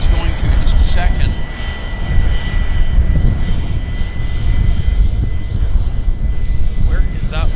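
A WestJet airliner at Vancouver airport gives a steady, fairly loud engine roar that holds throughout, with people talking intermittently over it.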